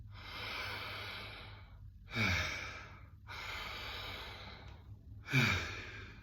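Conscious connected breathwork through an open mouth: two long, loud, airy inhale-exhale cycles, each breath flowing into the next without a pause, close and alone.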